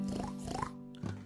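A singing voice imitates a pig oinking in a children's farm-animal song, a short nasal grunt-like sound lasting about a second, close and clear with no other sounds around it.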